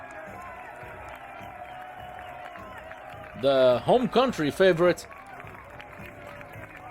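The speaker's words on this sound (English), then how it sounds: "The crowd clapping and supporting their local strongman." A crowd at a strongman championship truck pull claps and cheers for the local Croatian strongman, a steady, distant wash of applause and cheering beneath a commentator speaking.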